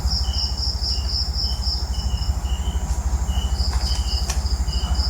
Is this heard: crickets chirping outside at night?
yes